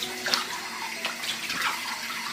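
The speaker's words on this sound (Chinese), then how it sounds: "我们现在给它清洗干净，可以多泡洗一会儿，泡去血水。" Water splashing and trickling in a basin as two pieces of pork are soaked and rinsed, with a few brief sloshes over a steady faint running-water wash, close and fairly quiet.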